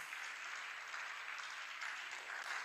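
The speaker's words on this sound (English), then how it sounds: "Please, let's welcome him with a round of applause as he gives us his opening remarks." Faint, steady audience applause at an engineering institution's app launch, an even wash of distant clapping that holds for a few seconds.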